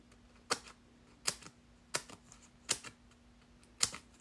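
Scissors cut up leftover paper card pieces from a paper crafting kit, five crisp evenly spaced snips close by against a quiet room.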